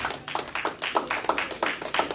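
A church congregation at a worship service claps together in steady, rhythmic applause, a run of evenly spaced collective claps close and fairly loud, with no talk over it.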